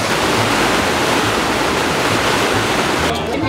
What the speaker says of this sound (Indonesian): suara gemercik air di aliran sungai